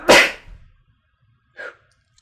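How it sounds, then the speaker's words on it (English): A single sharp sneeze close to the microphone, followed by quiet and then a brief short sniff or breath. "Edit out the sneeze."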